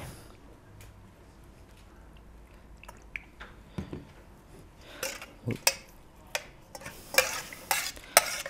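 Pig trotter carpaccio being mixed with oregano, salt, vinegar and olive oil, heard as wet stirring and spoon clinks against a bowl, quiet at first, then growing into a brisk, close run of scrapes and taps.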